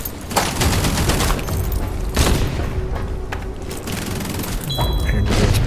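Gunfire crackles in the sci-fi shooter Outpost Infinity Siege, loud dense bursts of automatic fire and heavy booms running almost continuously with brief gaps, a mechanical whine near the end.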